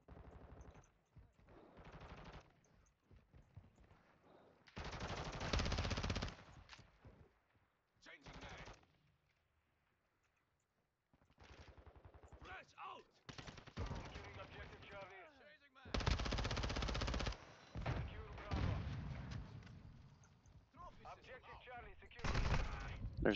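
Bursts of M16 rifle fire in Modern Warfare 2 Domination on the Santa Sena Border Crossing map, several loud rapid volleys separated by quieter gaps, with a player's voice talking in between.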